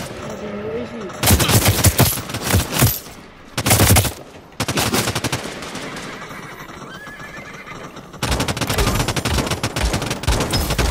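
Gunfire rings out in the battle-royale video game Realm Royale as several loud, dense bursts of shots come in separate volleys, mixed with other game sounds such as horse noises.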